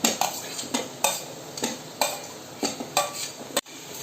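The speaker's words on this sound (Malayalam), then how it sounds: "അതും നല്ലവണ്ണം ഇതിൻ്റെ കൂടെ ഇളക്കി കൊടുക്കാം." A spoon stirs whole potatoes into beef roast in a pot, giving several sharp scraping clinks against the metal in an uneven rhythm, close and clear, with a soft sizzle underneath.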